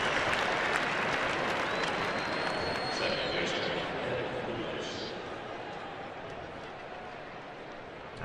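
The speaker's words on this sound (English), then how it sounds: "a round of applause at Chase Field for the Diamondbacks lefty" Crowd applause at Chase Field, the Diamondbacks' ballpark, during a Marlins game, honouring the Diamondbacks lefty; a broad, steady wash of clapping and crowd noise from the stands under play-by-play commentary, gradually easing off.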